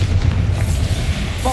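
A Confringo blasting spell bursts in a game-style duel as a loud, close, low rumbling boom that holds for the whole short moment, with a faint tonal chime near the end.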